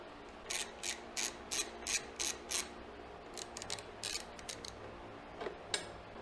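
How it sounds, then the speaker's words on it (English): A ratchet wrench clicks in quick bursts while loosening bolts on the light bar of a Harley-Davidson Ultra Classic motorcycle, with a steady run of short ratcheting spurts followed by sparser, irregular clicks. "get these two bolts on the side off here"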